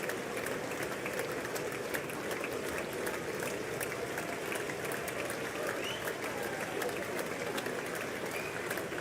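Steady, dense applause fills a large chamber during a State of the Union address, many hands clapping continuously at moderate distance without pause.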